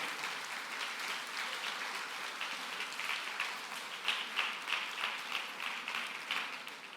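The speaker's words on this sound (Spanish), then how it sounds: "Dale un fuerte aplauso a ese Dios al cual servimos." A church congregation breaks into loud, sustained applause, a dense wash of many hands clapping that swells toward the end, with no talk over it.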